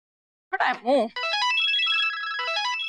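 After a brief silence and a couple of short tonal bursts, an electronic melodic mobile phone ringtone chimes continuously, clear and close.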